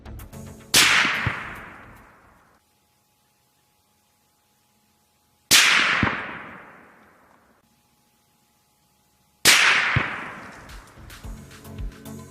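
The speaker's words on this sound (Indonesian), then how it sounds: "Peluru yang melesat lebih cepat dari kecepatan suara menimbulkan semacam sonic boom yang disebut sebagai ballistic crack." Three sharp, loud supersonic bullet cracks ring out, evenly spaced several seconds apart, each a sudden violent snap with a short decaying tail into silence.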